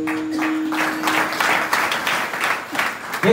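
An audience at a Marathi harikirtan claps in a steady burst of applause that stays at an even level throughout, with no voices over it.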